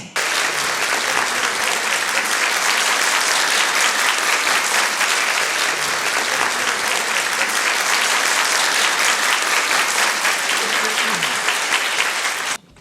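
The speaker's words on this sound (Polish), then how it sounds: "Przywitajcie dziewczyny gorącymi oklaskami i dajcie im mega wsparcie." Steady, loud applause from a pageant audience welcoming teenage contestants on stage at a local cultural centre, filling nearly thirteen seconds before stopping abruptly.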